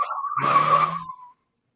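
A voice mimics a food truck's tire screech, a single loud squealing skid that swells and then trails off into silence.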